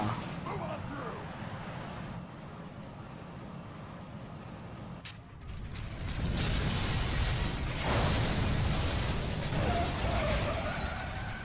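Explosion of detonated high explosives in the video game Vanquish: a dense, loud broadband blast swells in around the midpoint and rumbles on with a second surge, over steady game noise and no talk.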